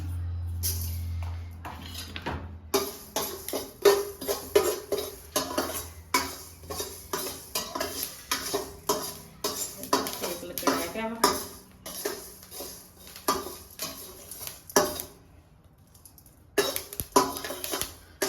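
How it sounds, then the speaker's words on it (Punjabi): Fenugreek seeds dry-roasting in a pan for raw mango pickle, with a spoon clattering and scraping against the metal in a busy, steady stirring rhythm, close and fairly loud, with occasional coughs and short pauses. "ਮੇਥੀ ਦੇਣਾ ਉਹਨੂੰ ਆਪਾਂ ਕਰ ਲਾਂਗੇ ਥੋੜਾ ਜਿਹਾ ਭੁੰਨ ਲਾਂਗੇ ਆਪਾਂ ਮਤਲਬ ਕਿ ਸਾਰੇ ਪਹਿਲਾਂ ਮਸਾਲੇ ਭੁੰਨਣੇ ਆ"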